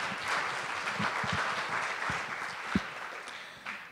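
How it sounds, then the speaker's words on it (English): A roomful of people clapping steadily, broadband applause that holds level, with a few sharper individual claps and faint voices near the end. "can we get a round of applause for all of the presenters tonight?"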